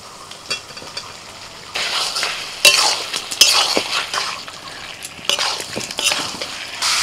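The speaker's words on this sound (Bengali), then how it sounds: "আলু আর ফুলকপিটাকে মশলার সাথে বেশ কিছুক্ষণ কষিয়ে নিয়েছি" Fried cauliflower and potato being stirred in a spice paste in a pan, with scraping spatula strokes, clinks against the metal and a steady sizzle rising and falling close by.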